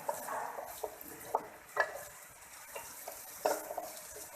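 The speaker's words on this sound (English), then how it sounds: "yellow pepper. Saute them nicely." Yellow peppers sautéing in a pan over a controlled flame, a faint steady sizzle broken by soft irregular clicks and scrapes of a utensil stirring, with no voices.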